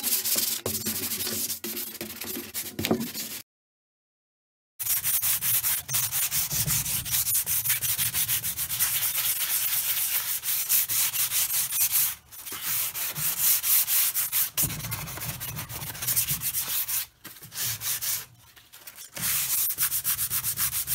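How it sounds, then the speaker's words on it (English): Steady hand sanding on an oak bed frame coated in gray paint over dark stain, a continuous close rubbing scratch that runs for about twenty seconds, broken by a few short pauses, with no talk. "Okay, just finishing up the sanding."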